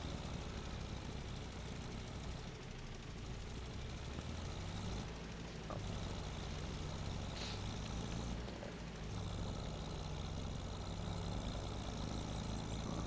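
A tractor engine running in the video game Rust, a quiet, steady low droning rumble that continues throughout with slight shifts in tone and no talk.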